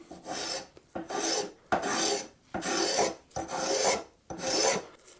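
A rasp or file works a maple guitar body, taking off fine shavings in six steady strokes, each a loud, close scraping burst with brief pauses between, with no talking.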